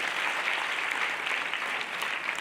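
An audience claps steadily throughout at a spoken motivational gathering, a continuous even wash of many hands heard from some distance, fairly soft and with no voices over it.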